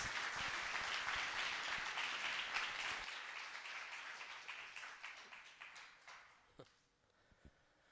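Audience applause at a pastor's church talk, a dense wash of clapping that fades over several seconds into a few scattered claps.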